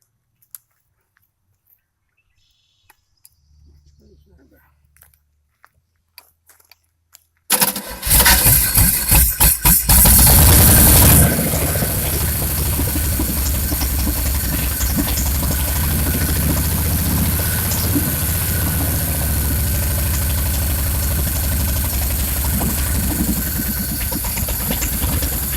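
A Chevy 350 V8 sitting out of the car on an engine stand in a backyard is cranked after a few quiet clicks and bangs, then bursts into a loud, rough, steady idle that runs on close by.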